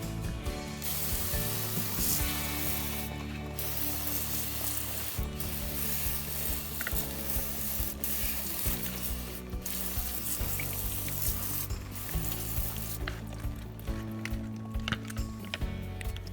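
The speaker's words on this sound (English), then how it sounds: "And then I'm going to use hot water to rinse it." Hot water sprays and splashes steadily against the engine of a 2009 Volkswagen Jetta, a continuous hissing rinse with a low mechanical hum and rattling underneath.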